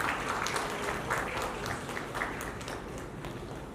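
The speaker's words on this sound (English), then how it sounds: "A big round of applause for Dr." Sustained audience applause at an awards ceremony honouring doctors, a dense steady patter of many hands clapping at moderate volume throughout, with no speech over it.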